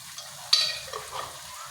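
Steady sizzling of cumin and shahi jeera frying in a hot pan for chicken pasanda, with a sharp clink of a utensil stirring partway through.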